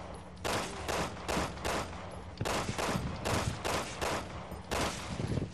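Rapid bursts of gunfire from the video game Resident Evil 6 ring out in repeated volleys, loud and sharp, with short gaps between each burst and no talking over them.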